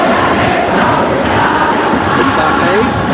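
Dense, loud stadium crowd roar from an eFootball match, a steady wall of massed voices with no breaks, filling the whole stretch.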